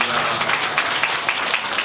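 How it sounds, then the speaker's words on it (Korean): Church congregation clapping together at a Sunday worship service, a dense burst of many hands that stays loud and steady from start to finish. "우리 하나님 영광의 박수 올리겠습니다."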